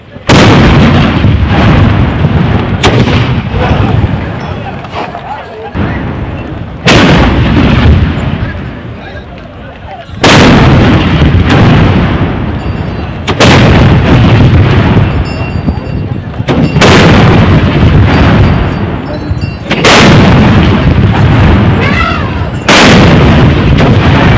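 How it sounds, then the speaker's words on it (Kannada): Heavy ceremonial cannon blasts go off one after another during a firing rehearsal before a row of elephants, about eight deep booms spaced a few seconds apart, each ringing out loudly before the next. "ಸಿಡಿಮದ್ದು ಸಿಡಿಯುತ್ತಿದ್ದಂತೆ"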